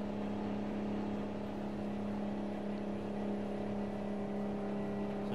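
Mack truck engine driving in the video game American Truck Simulator, a steady low diesel drone with a constant tonal hum, continuous and even throughout with no talk.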